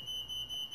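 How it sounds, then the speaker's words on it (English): An alarm going off, a loud, steady high-pitched electronic tone sounding continuously with slight pulsing, alone and close by. "My alarm just went off."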